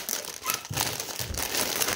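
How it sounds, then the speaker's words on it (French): Small plastic-wrapped packages being unwrapped, giving soft, close crinkling and rustling in a few irregular bursts, quiet and without talk. "Je déballe les petits paquets."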